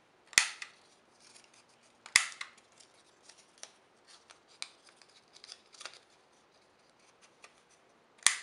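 Scissors snip around the corners of a small craft bag, with several sharp, distinct cuts spaced a couple of seconds apart and quieter paper rustling and small clicks in between, close and clear.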